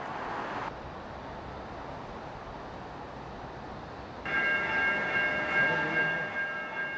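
A light rail train near Seattle's downtown ballpark rolls by under a steady rumble that swells midway, with thin ringing metallic tones rising over the noise for the last few seconds.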